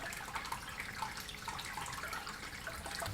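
Water pours steadily into a 450-litre tank, a continuous close rushing splash like a running tap that holds an even level throughout with no voices.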